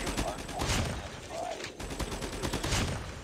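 A gun in a video game fires rapid bursts of shots in a quick rhythmic string, loud and close against a busy game background with a voice talking.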